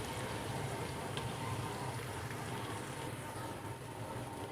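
Whole spices lightly frying in oil for mutton biryani, a steady, dense hiss and crackle that holds evenly throughout with no talk over it.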